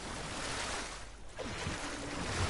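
Water churns and splashes in ARK Genesis as a player struggles to climb out among fish and electric eels, a steady rushing wash with a brief dip in the middle and no talking.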